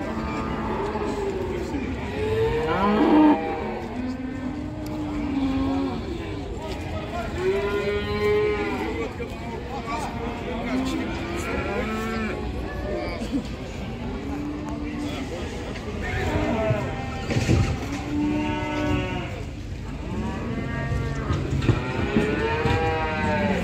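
Cattle and calves at a livestock market moo repeatedly, long drawn-out lowing calls from several animals near and far, with people talking and crowd murmur throughout.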